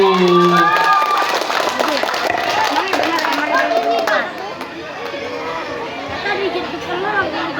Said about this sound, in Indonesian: Tepuk tangan untuk kelas 1.